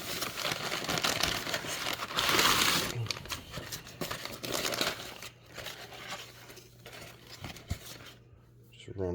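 Trading cards bought from a dollar bin are pulled in a bunch from a bag, giving close crinkling plastic rustles and papery shuffles that swell early, then thin into scattered handling noises beneath a voice.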